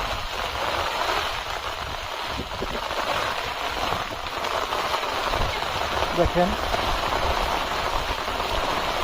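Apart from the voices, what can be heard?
rain falling on a vegetable field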